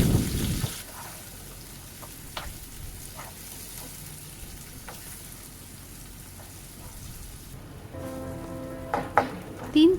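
Onion and tomato fry in oil in a wok over a medium flame, giving a steady, close sizzle with occasional scraping from stirring and a few clicks near the end, and no voice.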